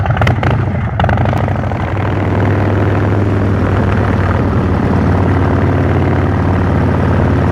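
A 2026 Harley-Davidson Street Bob 117 motorcycle runs steadily with a low, continuous engine rumble and strong harmonic drone, loud and close, with some brief knocks near the start and no talk.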